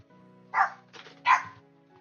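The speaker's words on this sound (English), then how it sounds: "Just sit there barking." A dog barks twice indoors at home, two short close barks about three-quarters of a second apart over a quiet background hum.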